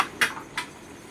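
A lid goes onto a pot of cooking spinach chicken, making two light, close metallic clinks a fraction of a second apart over a faint kitchen hum.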